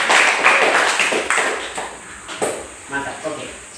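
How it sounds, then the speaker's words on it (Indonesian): Schoolchildren in a classroom clap their hands together, irregular close claps in loose bursts that fade and return, with voices mixed in. "Oke, tepuk tangan dulu."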